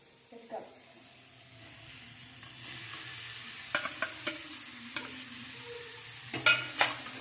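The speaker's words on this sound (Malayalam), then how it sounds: "എന്നിട്ട് അതൊക്കെ ഇളക്കി കൊടുക്കണം." Potatoes being stirred in a sizzling pan for a spicy pasta, a soft steady fry under a series of sharp spoon scrapes and clicks that come closer together toward the end.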